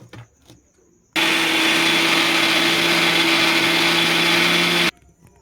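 A kitchen mixer grinder whirs loudly for about four seconds, grinding coconut with a little water, starting and stopping abruptly with a steady motor drone between quiet moments.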